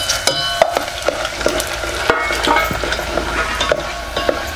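Spices sizzle in hot oil in a pan as cumin, mustard seeds and curry leaves are sautéed with cloves, cinnamon, pepper, turmeric and bay leaf for Maharashtrian masala rice: steady crackling frying with sharp spitting pops and stirring scrapes, close and fairly loud.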